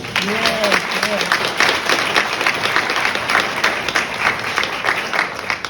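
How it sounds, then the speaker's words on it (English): A graduation ceremony audience applauds the students with loud, continuous clapping, a few brief voices or cheers rising near the start before the applause carries on evenly. "we should give them a round of applause."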